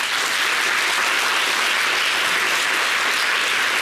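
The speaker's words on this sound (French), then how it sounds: "Vous pouvez applaudir encore" An audience of children applauds, a dense, even wash of many clapping hands sustained throughout at steady loudness with no talk over it.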